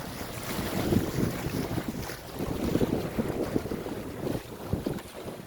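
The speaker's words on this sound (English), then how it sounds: "Full sails. Plenty of wind." Wind buffeting a sailboat under full sails off the Cumbrae islands in Scotland, a continuous gusty roar with pulsing rumble and water wash close to the microphone.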